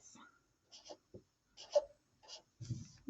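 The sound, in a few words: writing numbers by hand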